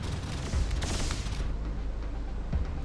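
Spaceship weapons firing at a pirate Harrier Vanguard in the space game X³ Terran Conflict, a rumbling, continuous barrage of booming blasts with a brighter burst near the middle, no talk.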